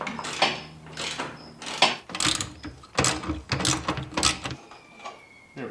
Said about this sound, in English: Now that we have both radiator hoses off the radiator, we can unbolt it.